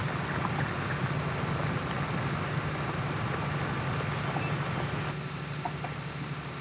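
A New Holland tractor ploughing in Farming Simulator 19 gives a loud, steady engine drone with a dense rushing rumble. It stays constant throughout, and the top end dulls slightly near the end.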